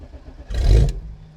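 A BMW 318i engine cranks in one short, low churning burst of about half a second, failing to catch before fading back to quiet.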